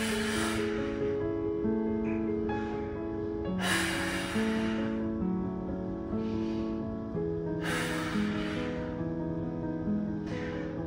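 Deep breathing in and out while stretching in a pre-workout injury-prevention routine: a few soft, breathy rushes spaced a few seconds apart, sitting under steady background music.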